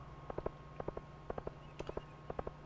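Quick clustered clip-clop of horse hooves in the Stardew Valley video game, faint, coming in rhythmic bursts of three or four steps repeated over a steady low hum.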